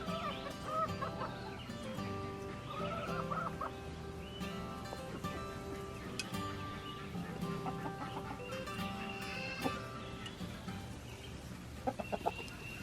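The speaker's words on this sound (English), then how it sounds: "Morning, chickens." Several chickens cluck and chatter close by, a steady busy flock sound with occasional sharper calls toward the end.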